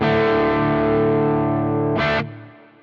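Guitar chord ringing through a chorus effect on a Quad Cortex, sustained and shimmering as it slowly decays, with a short scratchy strum near the end.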